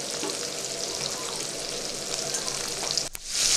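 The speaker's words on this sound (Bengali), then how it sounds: "পনিরগুলো কড়াইয়ের মধ্যে দিয়ে দেব। সিমে করে দেব, তারপর ভেজে নেব হালকা করে।" Paneer pieces sizzling and frying lightly in hot oil in a kadai, a continuous crackling hiss close by that swells slightly near the end, with a brief stir or clatter.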